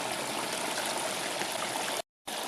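Water rushes steadily through a gold sluice wash plant, a close, continuous broadband wash of flowing and splashing water that cuts out briefly near the end before resuming.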